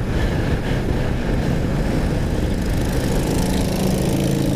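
A 2017 Honda Rebel 500 motorcycle cruising at 63 mph in top gear, a loud steady engine drone mixed with heavy wind rush, continuous throughout.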